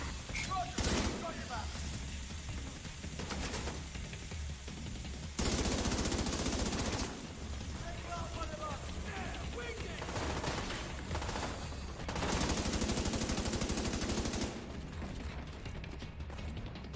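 Automatic turret gunfire in a video game, a long steady mechanical stream of rapid shots that swells louder in a few stretches, with a voice talking over it now and then.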